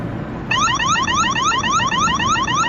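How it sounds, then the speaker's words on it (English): An electronic repeller alarm set off to drive a rat out: a loud, rapidly warbling electronic siren with repeating rising sweeps starts abruptly after half a second and continues steadily, with no voices. "let's see if the wise alarm will repel this guy and get him out of there"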